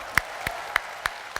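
An audience at a Mata Najwa talk show at UI claps in sharp, evenly spaced beats, five crisp claps in a steady rhythm over light background noise.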